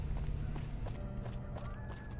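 Quick footsteps from the video game Fallout: New Vegas patter in a steady run, fairly soft beneath a dense, busy background of game sound.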